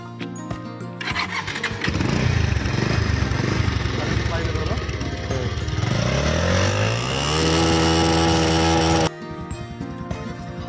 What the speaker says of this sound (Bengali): আমি এখন বাইকটা সাউন্ডটা শোনাই কেমন।